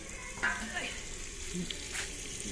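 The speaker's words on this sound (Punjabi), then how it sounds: "ਇਹ ਆਪਣਾ ਨੀਚੇ ਨਾ ਲੱਗ ਜੇ ਆਪਾਂ ਫੇਰਦੇ ਹਾਂ ਕੜਛੀ" Mustard-green saag sizzles softly in a pot as a ladle stirs it, with faint scraping and a few clanks over a low, steady frying hiss.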